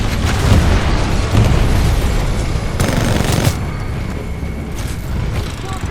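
Titan weapons in Titanfall 2 fire in heavy, loud booming bursts, with rapid gunfire and explosions rolling continuously through the battle.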